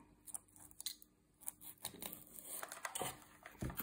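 Scissors cut a thin quarter-inch sheet in half while building a scale model house for a Peninsular War tabletop setting, giving a run of short crisp snips and crinkly tearing close to the mic, with no talking.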